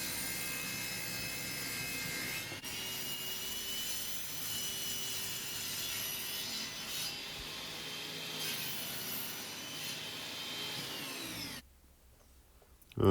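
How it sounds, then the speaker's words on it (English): A thickness planer feeds wood through its blades, giving a loud, steady mechanical roar with a bright whine that holds for about eleven seconds, then stops abruptly. "you can see the thickness planer is really cool"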